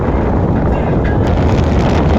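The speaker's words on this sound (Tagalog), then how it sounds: "nakabukas lang ang bintana namin dito kasi sobrang lamig ng hangin" Loud, constant cold wind roars and buffets across the microphone through an open car window while driving toward Tagaytay, Philippines, a dense rushing noise.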